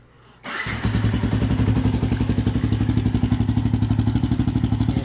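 A motorcycle fitted with an HGM open pipe exhaust and silencer starts up after a brief crank, then settles into a loud, close, steady idle with a rapid pulsing putter.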